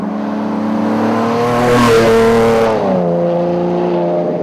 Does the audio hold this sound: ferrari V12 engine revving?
yes